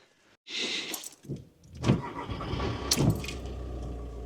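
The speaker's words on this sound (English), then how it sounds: "Right, now I've got the engine on." A Volkswagen camper van engine starts up, with a short burst of cranking that catches into a steady running rumble close by, and a few clunks over the top.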